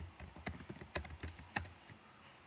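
Keys on a computer keyboard clack in an uneven run of distinct taps, close and quiet with short pauses between strokes, and no voices.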